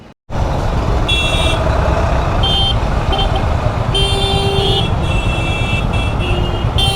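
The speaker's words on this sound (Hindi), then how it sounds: "यहाँ पे अभी हम थोड़े से जाम में फंसे हैं" A Royal Enfield Meteor 350 BS6 rolls through a traffic jam, its low engine rumble and wind noise running continuously up close while car horns honk repeatedly around it.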